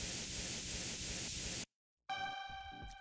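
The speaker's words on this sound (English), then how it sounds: "created a long, white noisy tail" A long, dense wash of white noise resampled from a processed single sample, loud and steady, then a brief gap before a tonal, ringing burst with a decaying noisy tail.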